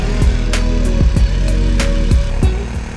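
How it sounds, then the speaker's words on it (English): A boat engine is started in Bangkok, Thailand, with loud, rhythmic chugging pulses roughly every third of a second, close up and steady with no talk. "time to start this engine then"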